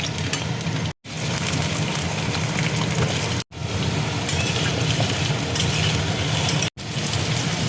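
Potatoes hiss and crackle steadily in hot mustard oil in a wok, a loud, dense sizzle broken by three brief silent gaps, with no talking.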